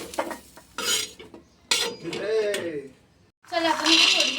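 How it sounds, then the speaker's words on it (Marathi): Peanuts being roasted in a pan for a Khandeshi chavali bhaji give off bursts of scraping, rattling and clattering against the metal, with sizzling between the loud stirring strokes. "आता आपल्याला थोडे भाजायचे शेंगदाणे"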